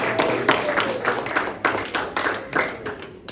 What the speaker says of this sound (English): let's have another round of applause for the scouts who participated